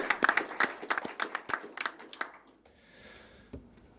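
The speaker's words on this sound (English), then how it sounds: "So I think that's worthy of a round of applause." Applause from an audience at a company annual meeting: a round of sharp, distinct claps that thins out and stops after about two and a half seconds, followed by quiet room noise and a single late thump.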